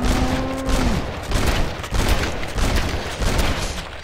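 Gunfire rings out against zombies in Red Dead Redemption: Undead Nightmare, a rapid series of loud, booming shots in uneven bursts after a brief tone at the start.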